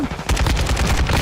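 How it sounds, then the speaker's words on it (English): Gunfire in a Call of Duty League match, with a rapid burst of loud, close shots following one another over about a second, dense and continuous rather than a single blast. "Freaking shotgun."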